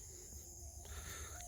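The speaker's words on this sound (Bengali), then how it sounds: "ঝিঝি পোকা," Crickets chirp on a cold morning in rural Bangladesh, a faint, steady high trill that runs through the whole stretch with no talking.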